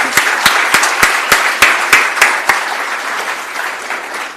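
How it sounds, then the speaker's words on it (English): A keynote speaker's audience breaks into applause, starting with a run of sharp, evenly spaced claps that blend into steady clapping and then ease off slightly toward the end. "give you another more deserving round of applause"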